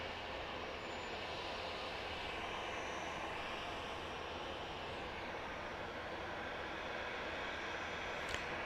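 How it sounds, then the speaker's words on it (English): A Southwest Airlines jet taxiing at Dallas Love Field gives off a steady engine whine and rumble at moderate distance, unchanging in level, with a faint high tone drifting in and a brief click near the end. "Well, we've got a Southwest plane on the move."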